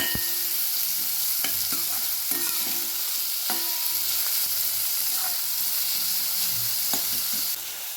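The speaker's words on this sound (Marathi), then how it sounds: "कांदा आपल्याला छान बदामी रंगावर परतून घ्यायचा आहे" Chopped onion sautés in a pan for a kardai greens sabji, a steady close sizzle broken by repeated scraping stirs and light clinks of a spatula, with no talk.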